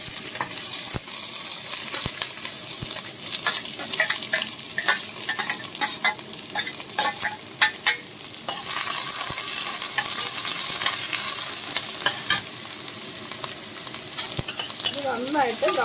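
Sliced onions and small shallots frying in hot coconut oil for a beef curry, a loud continuous sizzle under busy, irregular stirring scrapes and metallic clinks of the spoon against the pan.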